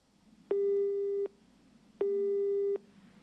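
Telephone busy signal on a call that fails to connect: two loud, steady electronic tones, each lasting about three-quarters of a second, separated by a pause of similar length, over a faint line hiss.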